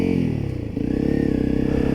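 A motorcycle labours through deep sand in Thailand, its engine droning steadily close by with a brief dip and surge in revs, joined by faint clattering and scraping from the wheels.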